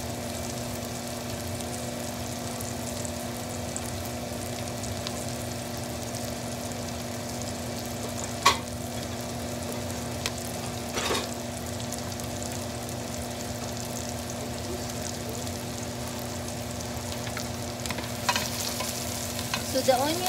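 Onions sautéing in a frying pan, a steady soft sizzle running throughout with a few faint clinks of a utensil stirring.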